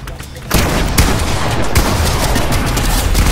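Rapid automatic gunfire in a PC first-person shooter, a loud dense burst of shots that starts abruptly and rattles on without pause to the end.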